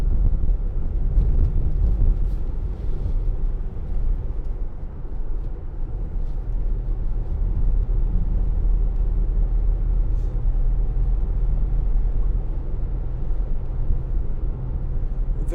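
A 2019 Ford Transit Custom 300 L2H1 van with a 2.0 TDCi diesel drives along a potholed road, giving a continuous low engine and road rumble with wind noise inside the cab and no one speaking.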